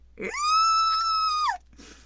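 A narrator's voice imitates a creature's high, piercing screech, holding one steady shrill note for over a second before it bends downward and cuts off, followed by a brief breathy sound.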